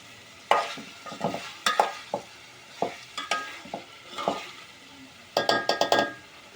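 Ribbonfish curry is stirred in a frying pan, with close, uneven scrapes and clinks of a spoon against the metal over a soft sizzle, ending in a quick burst of strokes.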